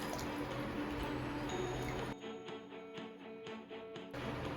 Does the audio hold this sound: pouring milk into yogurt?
yes